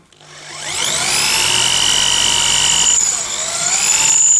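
A high-pitched Makita electric drill driver whines up to speed and holds a steady scream, its pitch dipping briefly as the bit bites into an alloy plate.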